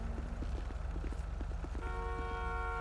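A car horn sounds in a video game police roleplay, a steady toot rising over a loud engine drone and rhythmic thumping in the last second.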